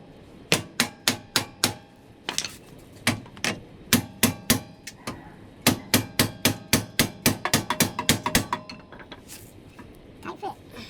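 A hammer tapping a radius rod into place on a Polaris RZR Pro XP side-by-side, with dozens of sharp metallic taps in uneven bursts, some quick runs of rapid strikes, close and clear.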